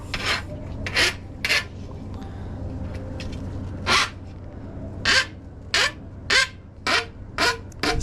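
A file rasps along the edge of an aluminum shower door track in a few short, light strokes, spaced irregularly over a low steady hum, close and moderately loud.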